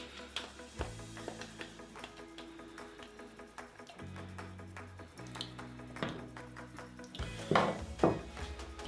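Steak tartare mixture clinks and scrapes as it is moved into a small bowl, with several light utensil taps and dish knocks over soft kitchen background, busier near the end.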